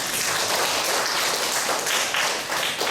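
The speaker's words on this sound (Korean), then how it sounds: "박수 쳐주십시오." A church camp audience claps in a dense, continuous burst of applause, loud and close, with no speech over it.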